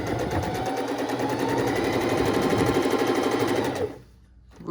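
A bernette sewing machine stitches a pillow. It runs loud and close as a steady, rapid whir for nearly four seconds, then stops abruptly and leaves a quiet pause. No one speaks.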